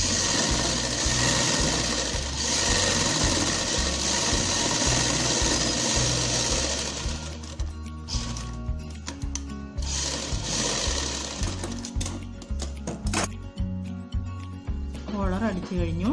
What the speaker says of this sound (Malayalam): ഇനി ഇവിടെയും ഒന്ന് അടിച്ചു കൊടുക്കണം.